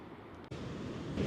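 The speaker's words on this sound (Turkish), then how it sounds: "Ama çok deli dalga mevcut. Dalganın seslerini de duyabilirsiniz." Rough sea waves crash on the Montenegro coast after rain, a continuous broad roar of surf mixed with wind buffeting the microphone, swelling slightly toward the end.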